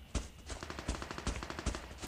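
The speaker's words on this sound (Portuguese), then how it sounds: "Nego já tá escancarando aqui a trocagem de tiro." Rapid bursts of gunfire from the mobile shooter game Bullet Force, an exchange of automatic fire in a gun-game match. Sharp shots come in quick uneven volleys, fairly close and loud, with no voices.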